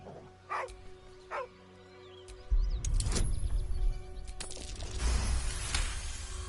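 A dog barks in Baldur's Gate 3, two short separate barks near the start, followed by louder sustained game ambience and rumbling sound effects with no talk.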